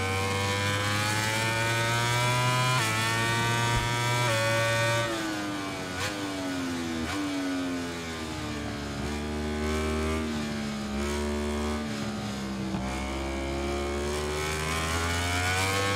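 A racing motorcycle engine in MotoGP 21, ridden as Joan Mir at Termas de Rio Hondo, Argentina, screams continuously, rising and falling in pitch through repeated gear shifts and braking dips, loud and close throughout.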